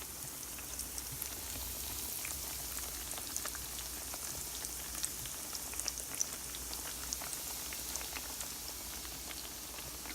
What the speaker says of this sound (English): breaded eggplant, and they go into the frying pan